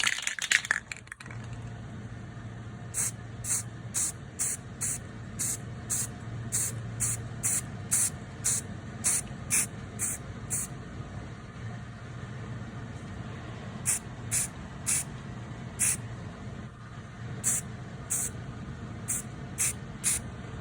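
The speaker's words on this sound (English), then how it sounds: "So just kind of spritz it around" An aerosol can sprays paint onto a tumbler cup in short, repeated hissing bursts, some quick and clustered and others spaced apart, close and alone with no talk.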